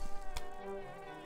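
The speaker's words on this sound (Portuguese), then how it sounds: "Isto é, são abelhas grandes para cacete." Large bees buzzing in a video game set in Limbo, a steady insect drone with many tonal layers holding for about a second after a brief thump.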